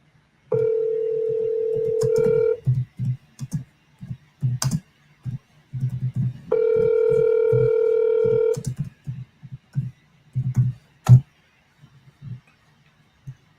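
Telephone call tones sound during outbound sales dialing: two long steady tones appear, each followed by a burst of keypad or keyboard clicks, and nobody answers.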